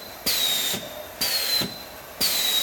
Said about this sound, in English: So we're going to operate the crown bar now 2 times.